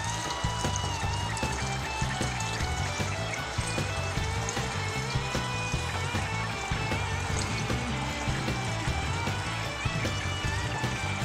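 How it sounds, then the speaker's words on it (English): Home-distilled spirit poured through a funnel into a cleaned bottle makes a continuous, close trickling and gurgling liquid flow that stays steady the whole time. "Just start to pour in the spirit."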